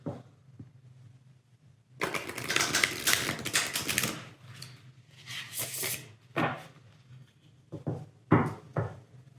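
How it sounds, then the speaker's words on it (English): Tarot cards being reshuffled make bursts of riffling and rustling, several separate flurries of dry papery clatter close by after a quiet opening. "Just going to reshuffle first"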